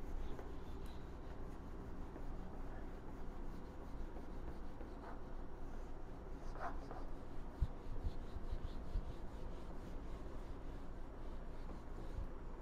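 Pen or chalk scratching out an equation by hand during a thermodynamics lecture, soft and continuous under a steady background hiss, with a few faint brief strokes standing out.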